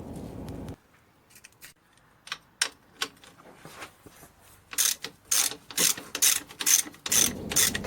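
A ratchet wrench removing the steering damper on a Jeep Grand Cherokee WJ, with sparse clicks at first, then quick bursts of rapid ratcheting clicks growing louder toward the end, close and without talk.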